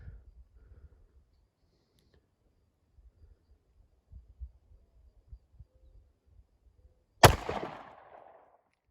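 A single sharp 9mm gunshot from a reduced-recoil handload fired at a range, loud and close with a short ringing decay, after several seconds of faint handling thumps and clicks.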